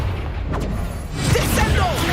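A Confringo fire spell blasts in Hogwarts Legacy, a rushing burst with crackling impact noise rising near the end, over steady low combat rumble.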